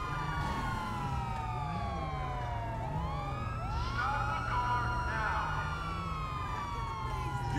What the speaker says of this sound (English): I'll get a modded siren installed